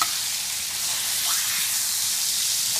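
Food frying in a pan while cooking in a van, a steady bright hissing sizzle that holds at an even level throughout, close and alone without talk.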